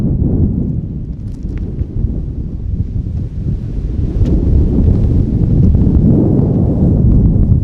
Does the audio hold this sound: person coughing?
no